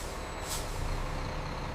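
Heavy truck at a modern steel mill releasing a short hiss of air brakes over a steady low engine rumble, set amid continuous industrial background noise.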